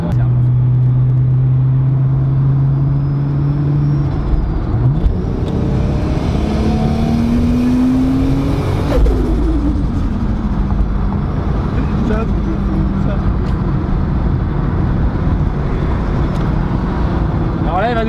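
Tuned 750 hp Toyota Supra on the road, a loud continuous engine and turbo roar with rising whine as it accelerates through gears, heard from inside the cabin over road rumble.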